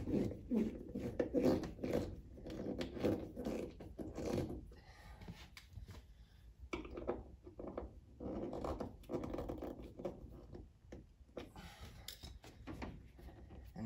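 A screw being tightened down on a sun visor in a 1977 Chevy Camaro under restoration: close, rhythmic scraping and rubbing turns with small creaks, loud at first then easing, no talking.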